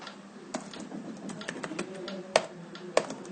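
Keys on a computer keyboard clack in quick, irregular bursts close by, with two sharper, louder strokes near the end and no talk over them.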